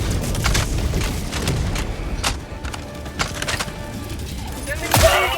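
Rapid bursts of heavy machine gun fire and thudding impacts in the shooter game Helldivers 2, set against automaton enemies, dense and loud throughout with a sharp blast near the end.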